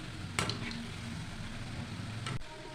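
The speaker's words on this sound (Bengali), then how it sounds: "লাল লাল করে ভেজে নেব" Palm fruit fritters, taler bora, deep-frying in oil, heard as a continuous low bubbling sizzle throughout, with two brief scrapes or clinks from utensils against the pan.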